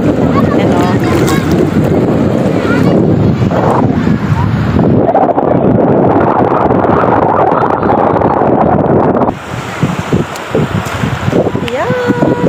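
Strong seaside wind at a beach in San Juan, Batangas buffets the microphone in a constant loud roar, with surf and voices mixed beneath and a brief easing near the end.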